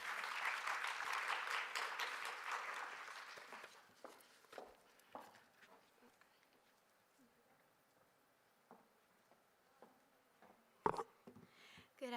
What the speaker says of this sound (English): So give a round of applause for them and welcome.